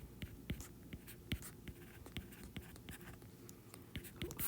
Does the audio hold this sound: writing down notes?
yes